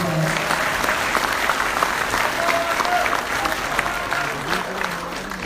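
Audience applause at an Indonesian iftar gathering (bukber), a steady dense clapping that fills the whole stretch, close and loud, with a few voices and cheers mixed in.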